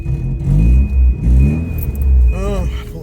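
A 1990 Volvo 245 engine idles steadily just after starting, a continuous low rumble with slight surges in revs, with a brief higher whine near the end.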